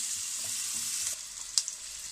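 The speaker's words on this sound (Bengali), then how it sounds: "সবগুলোকে 2-3 মিনিট মতো একটু ভেজে নিব।" Red and yellow capsicum frying in a pan, a steady close sizzle throughout with a couple of brief clicks from a utensil near the end.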